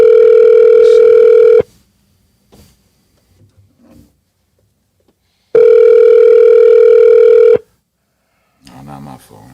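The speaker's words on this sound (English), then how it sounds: "I'm calling him through the speaker. That's why you hear." A phone call rings through a speakerphone in Kensington, Philadelphia, with two long, loud, steady ring tones a few seconds apart. Between them come quiet clicks and small handling sounds, and a voice speaks near the end.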